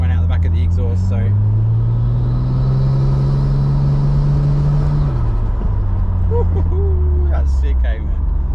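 A Nissan Skyline R34 sedan engine fitted with a new intercooler revs up and holds a loud steady drone, then drops back and revs again, boost spiking toward the end.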